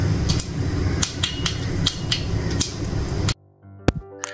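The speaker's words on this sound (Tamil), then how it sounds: "எனக்கு வந்துட்டு இந்த கடுகு பொரியறதோட சத்தம் ரொம்ப பிடிக்கும்." Mustard seeds splutter in hot oil with a dense stream of sharp crackles and pops up close. The crackling then cuts off abruptly, leaving silence broken by a couple of isolated pops.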